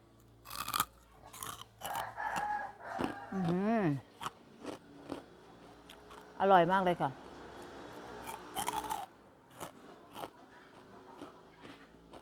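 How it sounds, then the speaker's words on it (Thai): Crispy, puffy Thai fried pork rinds crunch in a series of loud, close bites and chews, with short gaps between them. Someone speaks briefly in between the crunches. "จะเคี้ยว ให้ฟังนะคะ"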